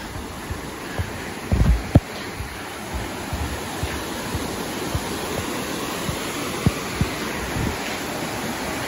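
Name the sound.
small waterfall cascade rushing through trees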